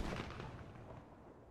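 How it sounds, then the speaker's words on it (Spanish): A single gunshot in the zombie survival game Project Zomboid, a loud booming report that rolls off into a rumbling decay over about a second and a half. "Ese disparo no es bueno."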